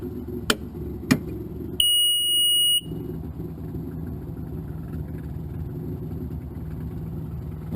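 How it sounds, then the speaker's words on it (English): Two sharp clicks, then a single loud electronic rotor alarm warning beep lasting about a second over a low steady hum, as a Helicycle N750G helicopter's systems boot up before engine start. "You're going to hear a large beep come out of my rotor alarm warning"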